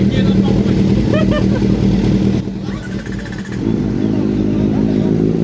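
A Kawasaki Z-Explorer motorcycle engine idles and revs loudly up close, its low rumble continuous, with a brief dip midway before the revving swells again; voices talk over it.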